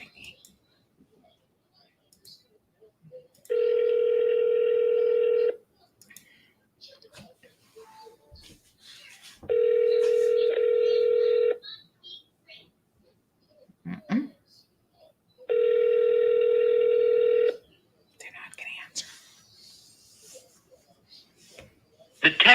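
Three long, steady ringback tones spaced evenly apart, each lasting about two seconds, with quiet pauses and faint background noise between them.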